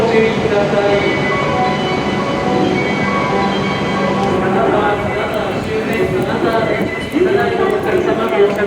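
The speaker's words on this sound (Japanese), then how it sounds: "回送列車が発車します。" Hokuriku Shinkansen train at Kanazawa station platform, a steady loud mechanical hum and whine with tonal bands filling the scene, shifting pitch near the end as the train moves, with station announcements over it.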